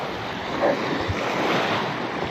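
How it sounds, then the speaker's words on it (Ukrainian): Big waves slap against the sloped bank of a left-bank river dam while strong wind buffets the microphone, a loud continuous wash with no talking. "Як бачите, хвиля велика."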